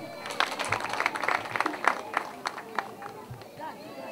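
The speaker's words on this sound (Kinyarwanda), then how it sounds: "rwose mumumpera amashyi" Audience at a school graduation ceremony applauding: dense, irregular clapping from a crowd, fairly close, with background voices murmuring underneath.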